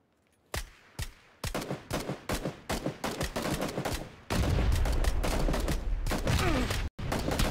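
Gunfire in the video game PUBG: a rapid series of sharp, loud shots in quick bursts, then a dense sustained volley of automatic fire with a brief gap near the end.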